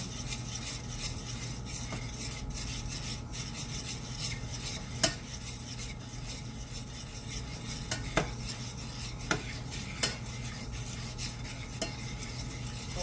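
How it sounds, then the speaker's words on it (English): Half and half being stirred into a pot of grits for shrimp and grits, heard as a steady scraping, swishing stir close up with a few sharp clinks of a spoon against the pot. "I want to stir in half and half pretty good."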